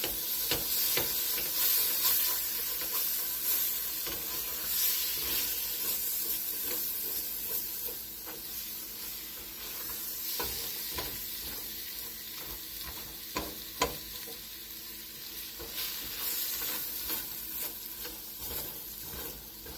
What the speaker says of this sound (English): I'm going to saute the veggies a little bit. And I have the heat on medium-low.